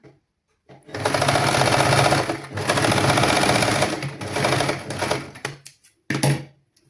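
A tailoring sewing machine stitches a children's garment in several loud, close bursts of rapid rattling, pausing briefly between runs and ending with a short final burst.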